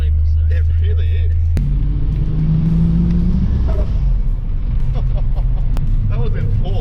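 A twin turbo 3.8-litre V6 VU Holden Ute spins its wheels in fourth gear, the engine roaring loud and close with a rising drone, while people talk over it.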